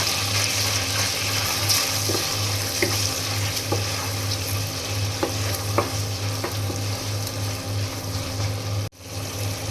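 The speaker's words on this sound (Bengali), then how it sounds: "এখন এই তেলের মধ্যে দিয়ে দেব পেঁয়াজ বাটা।" Onion paste fries in hot oil in a pan, giving a steady, dense sizzle with occasional stirring scrapes, close and fairly loud, ending in a brief pause near the end.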